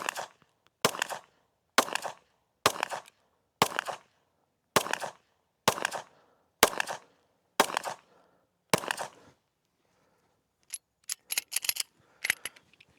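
Handgun shots from a carry pistol fitted with a short 10-round grip ring out one at a time at an even pace during outdoor practice, about ten sharp reports followed by a few quicker, fainter bursts.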